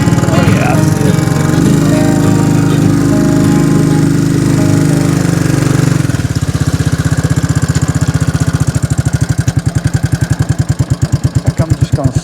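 Four-wheeler ATV engine idling steadily and loudly, a continuous close rumble that shifts partway through into a choppier, pulsing putter, with no talk over it.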